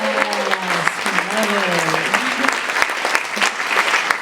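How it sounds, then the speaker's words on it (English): A live audience claps after a talk, a dense, sustained burst of applause nearby, with a voice speaking over it. "round of applause"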